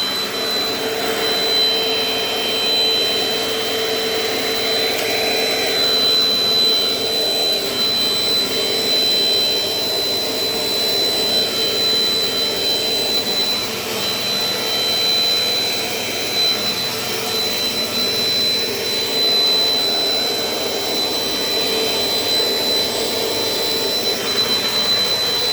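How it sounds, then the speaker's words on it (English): A Dirt Devil Dynamite Plus compact vacuum cleaner runs continuously, picking up cereal, with a steady motor whine and airflow roar and a few thin high tones, no voices. "this vacuum does really well for itself in size"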